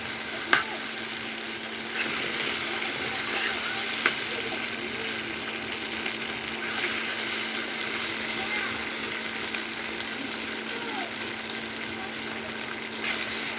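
Close, steady sizzling of a tomato mixture frying in a pan, a dense continuous hiss with a couple of faint utensil taps near the start.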